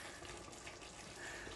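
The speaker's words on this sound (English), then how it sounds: "It's just bubbling away nicely" Noodle gumbo with tomato simmering in a pot, a steady close wash of bubbling and watery churning that runs without a break and without voices.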